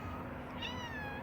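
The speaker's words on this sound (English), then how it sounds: "I went meow, and then Lucy went meow." A cat meows once, a short rising and falling call heard close up over a faint background hum.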